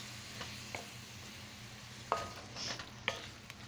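Sardines and bitter melon stir-fried with garlic, tomato and onion, giving a low steady sizzle broken by a few sharp spoon scrapes and clinks against the pan, with no voices.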